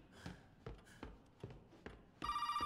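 A telephone rings in the video game Resident Evil 7, a bright electronic trill bursting in at the end after several soft, evenly spaced footsteps or taps in a quiet room.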